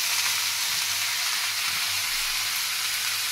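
Amaranth leaves fry in a pan with a dense, continuous sizzle and hiss, close and steady, with no voices.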